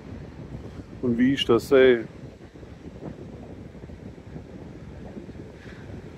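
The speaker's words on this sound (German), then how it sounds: "jetzt hier pfeift der Wind" Wind on Gran Canaria blows steadily into the microphone as a continuous rushing, buffeting noise, briefly under a voice near the start before it carries on alone.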